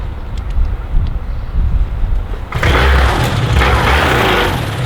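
An 80cc motorcycle engine with an Atom 80 or Top 80 conversion is throttled up close by, jumping abruptly from a quieter rumble to a loud, dense, rough roar midway that holds to the end.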